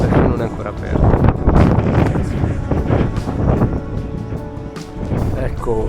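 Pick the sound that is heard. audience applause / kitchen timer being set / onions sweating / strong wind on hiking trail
strong wind on hiking trail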